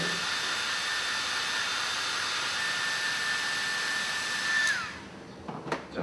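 A hair dryer blows to dry freshly dyed work during a slow, careful dyeing job. Its steady, close, loud airy roar holds with a faint whine, then switches off near the end and leaves a few small handling noises.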